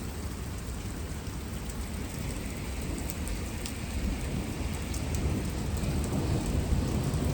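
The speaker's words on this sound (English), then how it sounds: "I just want to hear one of those thunderclaps that literally makes you jump." A spring severe thunderstorm with steady heavy rain hissing over surfaces and low thunder rumbling beneath it, a continuous wash of sound with no voices.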